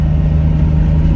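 An air-cooled Porsche 911 Targa drives through corners, its engine giving a loud, steady low rumble that stays close and constant.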